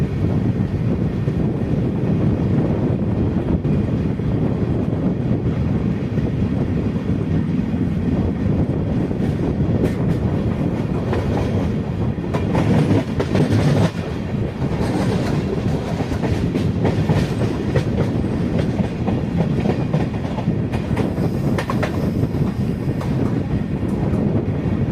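A Mangalore–Chennai Mail passenger train with new LHB coaches rolls along the rails, giving a loud, continuous rumble with rhythmic clickety-clack from the wheels throughout.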